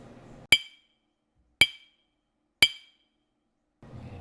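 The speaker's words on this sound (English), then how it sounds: "I'm going to strike this glass 3 times, and let's see how this glass is going to respond to the incident energy" A glass holding grains of rice is struck three times at even intervals of about a second, each hit a sharp bright clink with a short ringing tail, followed by quiet and a faint low rumble at the end.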